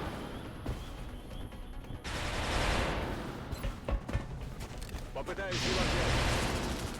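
Gunfire from a real gun in the video game XCOM: Enemy Unknown comes as two loud rumbling volleys of shots, with people talking over the game sounds.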